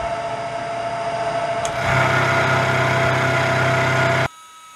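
A machine makes a plunge cut into a Spitfire part, a steady whine rising into a louder, deeper cutting tone about two seconds in, then stopping abruptly near the end.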